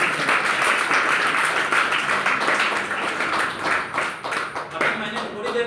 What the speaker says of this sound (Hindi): भगवान शिव के लिए ताली होनी चाहिए